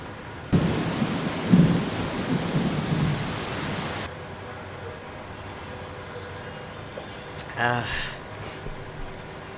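Heavy rain pours steadily with low rumbling for several seconds, then cuts to a quieter night scene near a coffee shop in Kuala Lumpur, with a brief rising tonal sound and faint background noise.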